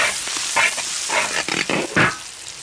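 Chili bean paste stir-fried in oil in a wok, a steady sizzle with several louder scraping, hissing surges of spatula stirring, close by and with no voices.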